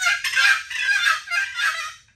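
Wooden turkey box call played back and forth, producing a run of scratchy, raspy yelps in quick rhythmic bursts, close and fairly loud with no talking.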